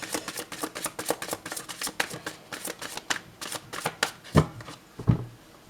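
Oracle cards are shuffled by hand close by, a quick run of crisp riffling flutters and soft slaps, ending with a couple of heavier taps as the deck is squared, with no talking.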